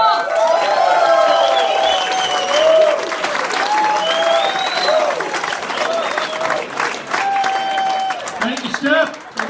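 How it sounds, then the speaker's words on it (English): A comedy club crowd bursts into sustained applause and whooping cheers for a comedian taking the stage, loud and dense throughout, with shouts and a host's voice mixed in. "Give it up for Dave Shoalts!"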